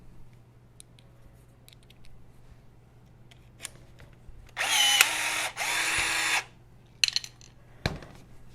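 Marson BT-2A 16-volt cordless riveting tool setting black-painted steel pop rivets into a test plate: two short whirring pulls around the middle, followed by faint clicks and a sharp clink as a spent mandrel drops.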